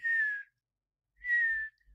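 A person whistles an imitation of the dusky-capped flycatcher's mournful call: two short, clear, slightly falling whistled notes separated by a pause, close and alone.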